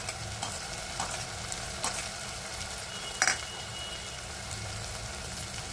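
Chillies and spices fry and sizzle in hot oil in a home kitchen pan, a steady close crackle broken by a few sharp stirring scrapes and clinks, with no talking.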